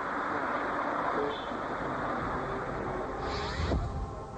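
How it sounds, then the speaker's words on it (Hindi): Busy road traffic at a big Delhi intersection with traffic police on duty, a continuous rumble of cars and buses with a brief horn toot, fairly close and steady. "दिल्ली के एक बड़े चौराहे पर तैनात ये ट्रैफिक पुलिस वाले"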